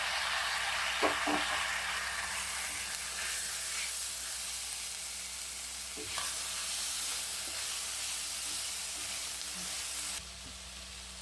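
Steady sizzling of tomatoes frying in a pan, with occasional soft scraping and clinks as they get stirred; no voices.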